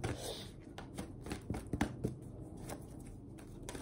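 Tarot cards shuffled by hand close up, a quiet string of soft riffling slaps and papery flutters in uneven bursts, with no talk.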